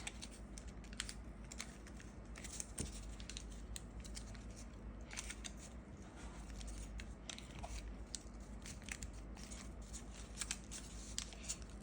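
Colored paper being creased and folded by hand into a paper Beyblade, the Gaia stamina type, giving close, quiet crinkles and sharp rustling snaps in an irregular rhythm with no talking.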